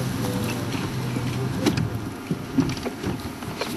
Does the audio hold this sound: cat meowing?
no